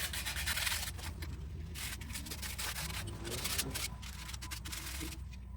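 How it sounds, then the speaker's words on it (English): Sandpaper rubs rust off a bicycle brake cable in quick back-and-forth scratchy strokes, close and continuous with a rhythmic rasp. "We're just gonna sand it out the rust"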